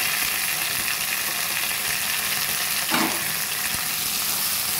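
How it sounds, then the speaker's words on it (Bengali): Vegetables sizzle in a hot pan for a Chinese-style egg dish, a dense, constant frying hiss heard up close, with one brief louder burst midway and no voices. "এখন আমি সবজি ঢেলে দেব।"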